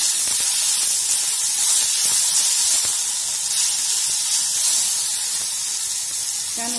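Onions and tomatoes with garlic, ginger and coriander sautéing in a pan, giving a steady, close hiss and sizzle that holds evenly from start to finish with no talking.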